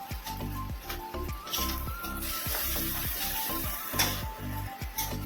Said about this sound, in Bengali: চিংড়ি মাছ বেশি ভাজবো না, হালকা করে ছেড়ে দিয়ে নেবো